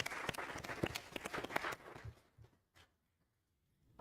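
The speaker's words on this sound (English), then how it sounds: "please, the audience, help me to give a big applause of thank you of the great discussions we had" Audience applause for panelists at a German-Brazilian science, research and innovation dialogue, a burst of dense clapping that thins out and fades to near silence within about two seconds.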